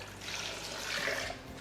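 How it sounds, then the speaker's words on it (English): Water pours into a blender holding softened chiles, a soft, steady trickle and splash lasting about a second and a half, close and fairly quiet with no talking. "To your blender, you want to add your water"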